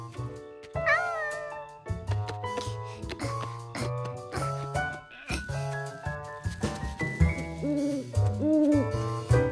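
A nocturnal bird calls at night in a cartoon farm scene, its hooting cries rising and falling over steady animated-score music for nearly ten seconds.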